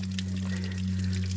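Water trickles and flows steadily from a natural spring beside a creek in the Barikewa jungle, a close continuous gush under a strong low steady hum.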